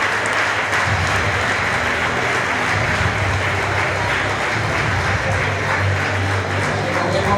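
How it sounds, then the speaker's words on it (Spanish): Steady audience applause fills a hall at an awards gala for a popular running-race circuit, a dense continuous wash of many hands clapping at a constant level with no voices standing out. "Un aplauso, por favor, por dar la inversión necesaria en estas carreras populares."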